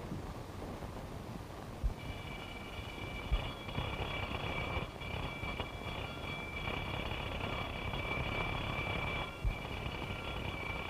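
A continuous high-pitched alarm bell rings steadily for several seconds over a noisy, rumbling background, starting abruptly and holding without pause.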